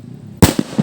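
A 20-gram lifter firework explodes with one sharp, loud bang after near silence, followed by a few quick crackling pops as it dies away.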